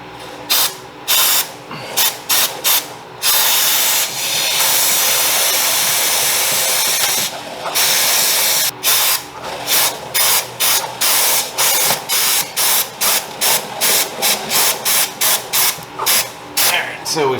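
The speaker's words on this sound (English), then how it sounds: "So now we want to spray the chain." Cleaner sprayed onto the O-ring chain of a Honda Rebel 250 motorcycle, first a long continuous hiss, then a rapid series of short sharp spray bursts in a steady rhythm, loud and close.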